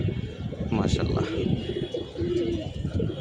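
Pigeons coo softly in a loft during chick-rearing, low murmuring calls repeating under a steady background with some faint bird chatter; a voice may be present.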